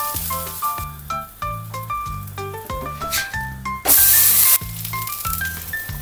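Cheese and onion paratha sizzles with butter on a hot pan, a steady frying hiss that flares into a loud burst partway through, under bright background music with a regular beat.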